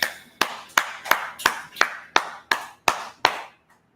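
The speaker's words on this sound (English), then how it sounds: "All right, go ahead and clap it up." Rhythmic clapping from a gathered audience, about ten sharp, evenly spaced claps in unison, each ringing briefly in a reverberant room, then stopping.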